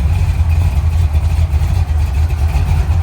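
A square body truck idles nearby with a steady, loud low-end rumble and a slightly uneven, throbbing rhythm.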